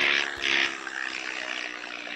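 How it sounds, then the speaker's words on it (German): A propeller airplane passes overhead in the survival video game Vast Survival, a loud broad engine roar that swells and then fades into a steady, distant drone. "Ihr hört ein Flugzeug, also ich habe ja gesagt, ein Flugzeug kommt, wenn einer ins Spiel reinkommt."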